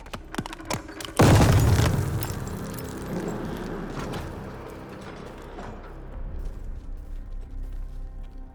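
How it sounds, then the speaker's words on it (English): A grenade in Call of Duty: Vanguard bursts in one sudden, loud blast after a brief rattle, then a long rumbling decay with scattered debris clatter trailing off. "Grenade! Get down!"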